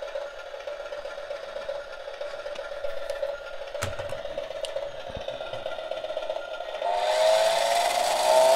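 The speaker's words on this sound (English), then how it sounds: "it's not music, it's a simulated engine sound." An RC S810 Dodo racing tricycle plays a simulated engine sound, a steady electronic hum that holds a constant pitch, then grows louder and rises sharply near the end, with a brief click partway through.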